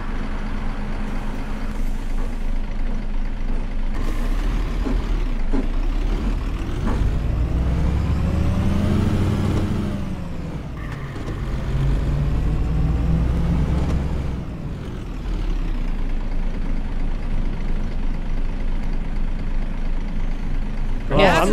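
A Berlin city bus on route 105 toward Rathaus Spandau drives with a steady engine drone that rises and falls as it speeds up and slows down. Passengers talk over the engine noise.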